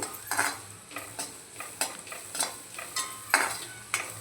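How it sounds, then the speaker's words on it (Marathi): Malvani masala and a pinch of turmeric stirred and sautéed in hot oil for a wet cashew bhaji, a spoon scraping the pan in steady, close strokes about twice a second over a soft sizzle. "एक चमचा मालवणी मसाला आणि परतवून घेऊया"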